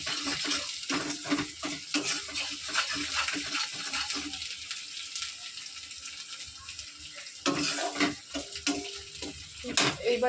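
Ginger and spices fry in a pan for an egg dish, giving a steady close sizzle broken by repeated stirring scrapes and clatters, with a louder burst near the end.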